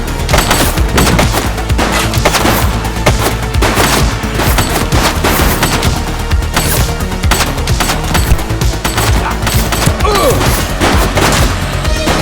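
Heavy bursts of gunfire in the cop sandbox video game The Precinct, loud and sustained with rapid overlapping shots and occasional booms throughout.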